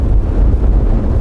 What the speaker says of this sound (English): the wind was blowing like this